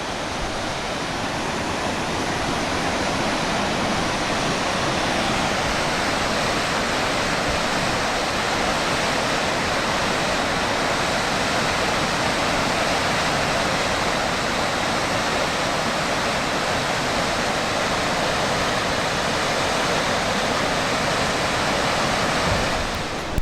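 Runoff of Shuswap Falls on a river, a continuous broad roar of rushing water, loud and close, unchanging for over twenty seconds with no voices.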